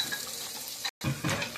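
Pork spare ribs frying in a pot of hot oil, a steady close bubbling sizzle with a brief clink, cut by a short gap of silence before the frying resumes.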